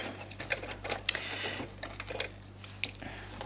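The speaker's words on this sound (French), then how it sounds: "Alors nous voilà à la machine à coudre." Sewing machine stitching fabric for a bookmark, a quiet run of fast rattling needle strokes with short pauses, faint and close.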